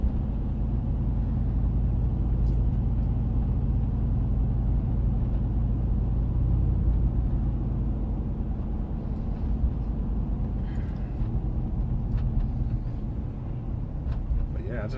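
Nissan Titan pickup with a Flowmaster exhaust heard from inside the cabin while driving, a steady low exhaust drone and road rumble throughout, with faint speech underneath.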